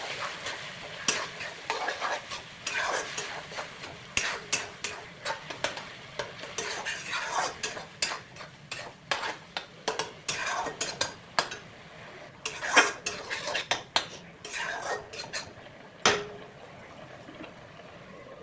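Tomato and dry chili paste stir-fry in a pan for upma, loud bursts of sizzling mixed with frequent clanking spatula strokes against metal in an uneven rhythm, close by, with no one speaking.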